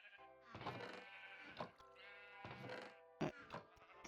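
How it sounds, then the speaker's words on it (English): Several sheep on a Minecraft sheep farm bleat in overlapping, wavering calls, close and clear, about four bleats in quick succession with no talk. "so I have a bit of a sheep farm"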